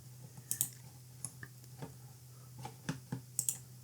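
Computer mouse clicks while saving product images from a web page, about a dozen short sharp clicks in irregular pairs and singles over a faint steady hum, close and crisp, no speech.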